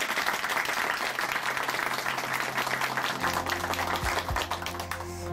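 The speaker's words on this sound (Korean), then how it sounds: "우리 다시 한번 큰 박수 보내드리겠습니다." A church congregation in Chuncheon claps together in steady, dense applause, and partway through a sustained musical tone swells in beneath the fading clapping.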